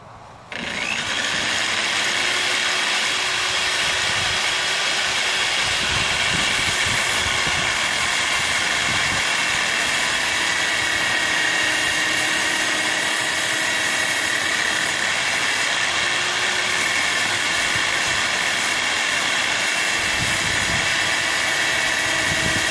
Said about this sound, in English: It only stays on high speed, so it don't work very well as a polisher, but it works great as a sander